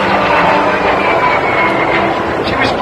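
A T-Bird jet aircraft flies at a 2019 airshow in Brantford, Ontario, producing a loud, steady broadband engine roar throughout.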